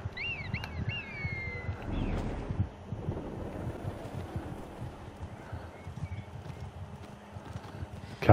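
Horse hooves clip-clopping in Assassin's Creed Origins, a steady rhythmic gait heard fairly close over wind and ambient game noise, with no talk.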